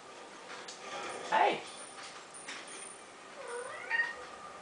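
In the video game Red Steel 2, a cat meows in a few faint, brief calls, with the loudest cry near the middle and another toward the end.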